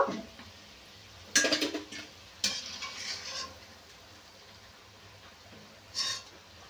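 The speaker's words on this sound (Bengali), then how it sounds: "আর এই যে একে একে আমি তেল ঝরিয়ে তুলে নেব।" Fried palm fritters (taler bora) are scooped one by one out of hot oil: a soft, faint sizzle runs underneath, broken by a few louder clinks and scrapes of the utensil against the pan, with no talking.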